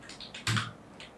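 A few quick keystrokes on a computer keyboard, close and crisp, with one louder key press near the middle, no voices.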